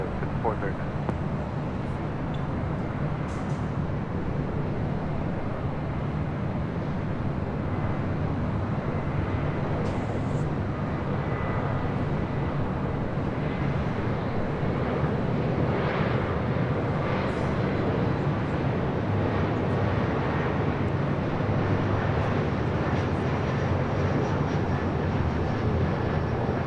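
A fixed-wing airliner comes in to land on runway 24 left at LAX, a continuous broad jet roar held steady throughout, moderately loud and distant, with faint traffic hum beneath.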